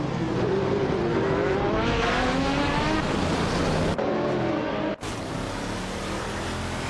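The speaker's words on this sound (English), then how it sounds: "Sergey is driving a 2004 Maserati MC12G T1" A 2004 Maserati MC12 GT1 race car in a racing video game, its engine droning steadily and loudly with rising and falling pitch as it shifts through gears, with two brief cutoffs.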